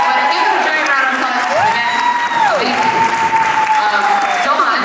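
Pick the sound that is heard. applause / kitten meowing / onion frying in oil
applause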